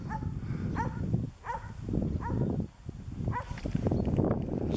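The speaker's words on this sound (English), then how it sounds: "Here comes some dogs to attack me." Several Berber street dogs in Ifrane, Morocco, bark in short repeated bursts, some near and some farther off, with no talk over them.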